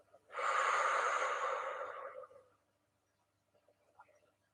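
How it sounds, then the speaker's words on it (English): A slow exhale during a guided relaxation breathing exercise, one long breathy rush of air lasting about two seconds and fading away, followed by near silence with a few faint soft sounds. "Breathing out."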